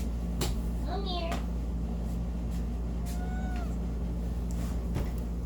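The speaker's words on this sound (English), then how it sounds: "I have a big kitty." A big 13-pound house cat gives two short meows close to the microphone over a steady background hum, while someone talks to it.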